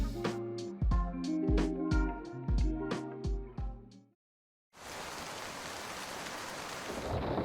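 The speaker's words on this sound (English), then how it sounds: "waiting for a huge thunderstorm to roll in and hit us" A few seconds of plucked musical notes stop and fall silent. Then heavy rain from a thunderstorm rushes in as a dense, even roar that continues to the end.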